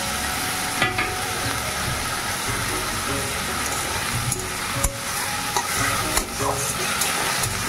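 Ground green chilli paste fries in a pan with a continuous crackling sizzle, punctuated by occasional scrapes and knocks of stirring, close and fairly loud with no talk.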